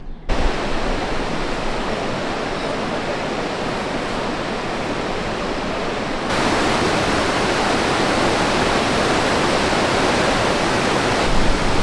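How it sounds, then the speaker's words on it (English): The Ganga river rushes wildly at Gangotri, a loud, steady roar of churning water that fills the whole stretch without a break and swells slightly louder partway through. "My plan was to take a dip in the Ganga, but it is wilder than ever"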